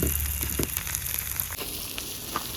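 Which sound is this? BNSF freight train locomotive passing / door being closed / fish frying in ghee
fish frying in ghee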